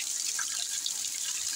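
Rain mixed with hail falling steadily on a village, a continuous broadband hiss and patter with scattered drip-like taps, close and even throughout with no voices.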